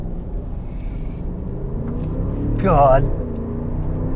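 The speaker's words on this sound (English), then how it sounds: "Let's just roll into the gas here." A 2023 Range Rover Sport P530 V8 pulls away on the road at part throttle, giving a steady low engine rumble and road noise that swells slightly as it accelerates, with a brief spoken word over it.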